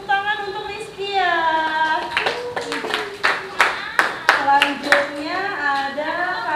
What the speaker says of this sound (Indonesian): Beri tepuk tangan untuk Rizkia.